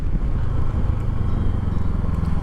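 A Voge 500 DS motorcycle engine hums and rumbles steadily while riding, a close, continuous low drone lasting a couple of seconds with no voices.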